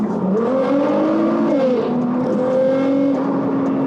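A 757 bhp Litchfield-tuned Nissan R35 GT-R Nismo revs and pulls hard with the window down, its pitch climbing and shifting through gears, loud and close, with steady road and wind noise underneath.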